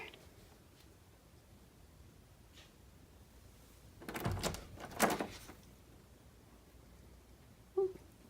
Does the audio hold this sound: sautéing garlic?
no